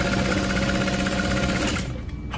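Sewing machine top stitching vinyl to lining fabric for a crossbody bag, a loud close steady whirring run of rapid stitches that stops near the end.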